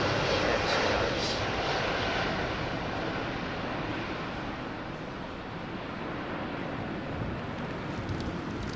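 An airliner rolls down the runway at London Heathrow at about 110 knots near V1, a broad, steady jet roar heard from on board, slightly easing and then holding level without voices.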